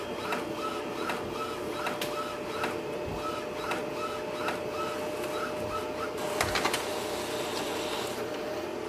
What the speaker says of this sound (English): Let's print the nozzle check sheet.